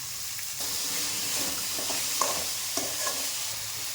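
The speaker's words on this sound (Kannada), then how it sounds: "ಇವಾಗ ಆಲೂಗೆಡ್ಡೆ ಹಾಕ್ಕೊಂಡು ಎಣ್ಣೆಯಲ್ಲಿ ಹುರ್ಕೋಬೇಕು" Potato pieces frying in oil in a pan, giving a continuous close sizzle and hiss with scraping stirs and a few sharp clinks of the spoon against the pan.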